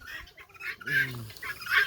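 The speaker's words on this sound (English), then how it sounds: "That's a rooster." A rooster gives a short clucking call among other faint bird sounds, moderately close and fairly quiet.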